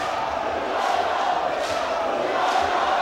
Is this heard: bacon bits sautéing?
no